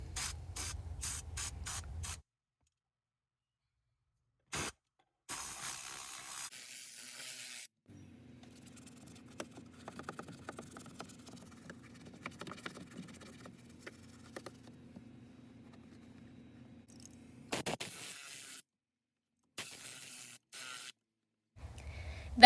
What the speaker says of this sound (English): cover the cup holder with the towel and spray out with the Tornador